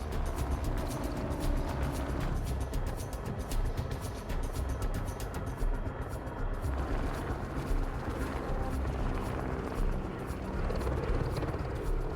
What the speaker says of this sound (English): The helicopter is holding itself half suspended in the air.